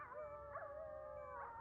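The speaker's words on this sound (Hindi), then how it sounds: "कुत्ता, बिल्ली, मेंढक सबकी आवाजें सुनाई दे रही है" A dog lets out a drawn-out, wavering howl with rising and falling pitch swoops, faint and alone, in a Hindi horror comedy scene.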